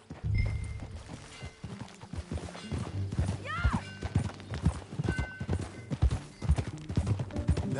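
Horse hooves clip-clop steadily while riding in Red Dead Redemption 2, with a brief whinny midway and a low rumble of ambient game sound underneath.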